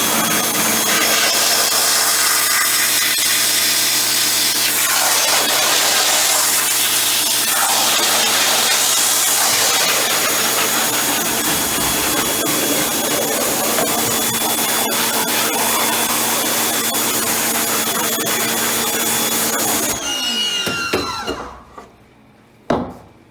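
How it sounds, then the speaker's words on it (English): A power washer blasts emulsion off a screen-printing screen, a loud steady broadband hiss of water spray running continuously for about twenty seconds before cutting off abruptly, leaving a brief faint tail. "when he hits that with that power washer, almost every single bit of this emulsion is going to go away"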